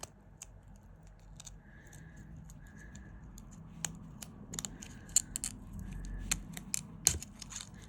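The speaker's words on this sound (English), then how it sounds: "Then get my scissors in there." Scissors snipping at a bead strand from a Softflex jewellery kit: small, sharp, scattered clicks and snips at close range, fairly quiet and irregular, with no talk.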